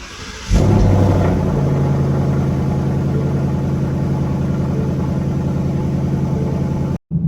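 A Ford Mustang engine starts up and then runs with a steady, loud, close rumbling idle for several seconds, cutting out briefly near the end, with no talk over it.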